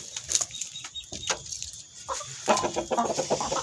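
Free-range village chickens and a rooster in a coop give off scattered clucks, squawks and wing flaps at close range, busy and irregular against a steady background hum with no talking.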